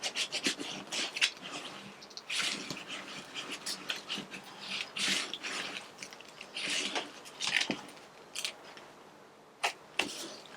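A hand rubs over a stamped masterboard tag with quiet, scratchy, irregular strokes, each brief and close, in a soft, continuous rasp.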